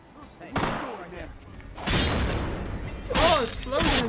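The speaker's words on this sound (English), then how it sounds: "Oh, explosion!" A video game explosion in Vampire the Masquerade Bloodlines sounds as several heavy booming blasts and crashes over about four seconds, loud and close, with a voice talking over them.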